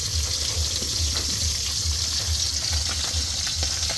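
Fish sizzles in a hot kadai with a steady crackling hiss and a low, rhythmic bubbling underneath, fairly quiet and close.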